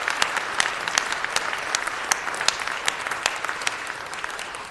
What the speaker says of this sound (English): please give a round of applause to former Councilman, former State Senator Nate Holden